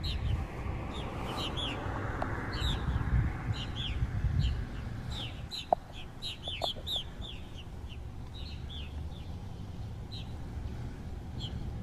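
A flock of birds circles overhead outdoors, chattering in repeated high chirps and calls over a steady low rumble of wind or background noise.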